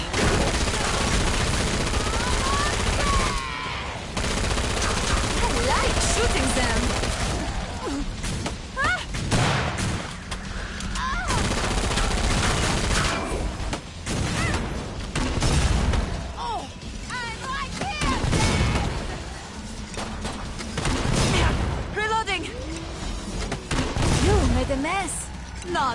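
Rapid gunfire bursts from Killing Floor 2 fill the scene almost continuously, loud and dense, with brief lulls and a voice now and then beneath the shooting.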